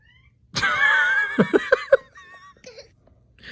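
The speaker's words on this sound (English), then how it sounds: "It sounded like a meowing and a couple people laughing." A single drawn-out meow rings out, followed by a few quick bursts of giggling laughter, then quiet.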